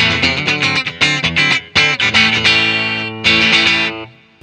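An XO HEG 310 electric guitar played through effects, with strummed and picked chords ringing out in bursts and sustained tones, carrying a bright processed shimmer and distortion for about four seconds before fading.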